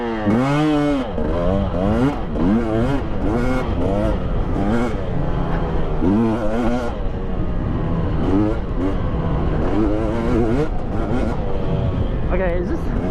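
A 2020 Husqvarna TE300i two-stroke dirt bike revs hard at full throttle, its engine note rising and falling in repeated sweeps as it pulls through gears, loud and close throughout with brief dips between bursts.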